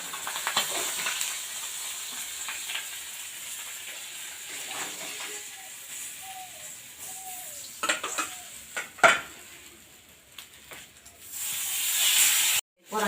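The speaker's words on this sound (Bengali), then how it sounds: "সব মাছগুলোই ভেজে নিয়েছি, দেখুন সব মাছগুলো ভেজে নিয়েছি।" Chandni fish fry in hot oil, making a quiet, steady sizzle with scattered clinks and scrapes of a utensil against the pan, plus a louder hissing burst near the end.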